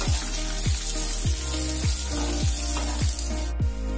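Okra pieces frying in oil in a pan over a medium flame, a steady close sizzle with soft, regular stirring scrapes about every half second throughout.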